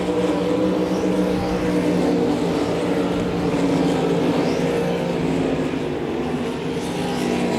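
Race cars roar around Devil's Bowl Speedway during a Winter Nationals heat race, a loud, continuous, layered engine drone from several cars that swells and fades a little as they circle the track.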